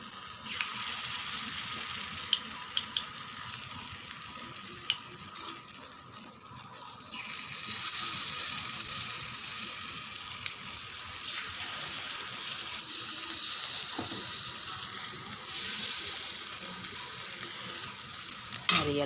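Batter for South Indian tiffin hits hot oil in a pan and sizzles with a steady, bright hiss that swells and eases over the span, close and continuous with no talk.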